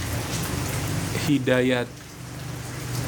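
Steady rain falls as a constant close hiss throughout, and a voice speaks briefly in the middle.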